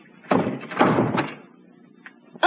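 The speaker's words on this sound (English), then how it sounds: "The door's locked, Gina." A locked door is rattled and thumped in a television drama scene, giving two heavy bursts of banging close by, then a pause and a sharp knock at the end.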